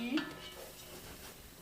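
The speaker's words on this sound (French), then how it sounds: "Une fois que j'ai fait revenir bien mes lentilles" Lentils are stirred in a pot as they sauté, with a soft metallic scrape of a utensil at the start followed by a faint, steady sizzle.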